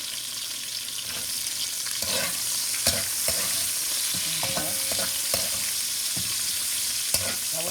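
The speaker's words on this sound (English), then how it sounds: "saute just a little bit, just to give our oil some flavor." Onions sauté in hot oil for a Haitian stew fish, giving a steady close sizzle with scattered stirring clicks and scrapes from a utensil in the pan.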